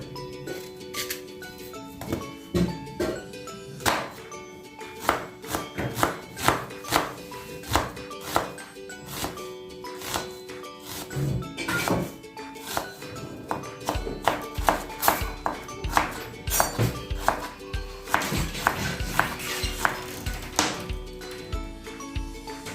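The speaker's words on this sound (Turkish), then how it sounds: "Hemen soğanımı doğrayacağım" A knife chops an onion repeatedly on a cutting board, quick irregular taps close by, with short pauses between bursts and background music.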